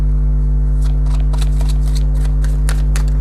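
Romance Angel oracle cards are shuffled in a series of soft, papery riffling bursts, close and clear over a steady low electrical hum, with no talking.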